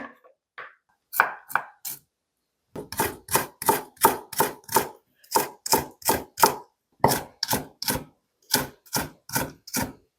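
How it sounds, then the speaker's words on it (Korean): Rapid, rhythmic knife chops cutting red chili peppers on a cutting board, coming in quick bursts separated by short pauses, close and crisp. "홍고추 반 잘라 씨좀 털어낼게요"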